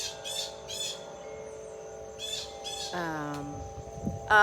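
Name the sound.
birds calling outdoors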